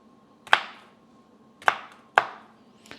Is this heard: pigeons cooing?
no